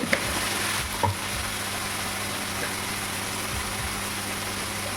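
Prawns fry in oil while salt, turmeric and Kashmiri chili are stirred in, a steady close sizzle with a few brief clinks and scrapes of the spoon near the start.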